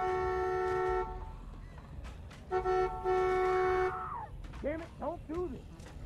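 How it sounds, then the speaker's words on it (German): A car horn honks in The Walking Dead video game: a long steady blast, a pause, then a second long blast, with someone talking and other sounds chirping in between. "Ja, Hupe benutzen."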